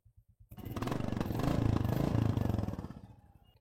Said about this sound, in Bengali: আর এই বাইকের যেই সাউন্ডটা দেখেন